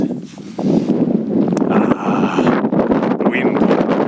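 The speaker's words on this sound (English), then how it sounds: "Sorry about the wind." Strong wind on a beach buffets the microphone in a loud, continuous roar that runs the whole time, with gusty rumble and rustle and no speech over it.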